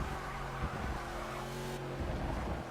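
Onboard engine of the GSR Roadrunner V8 Supercar during qualifying, a steady droning V8 note with shifting pitch and a brief dip near the end, heard from inside the car at low level.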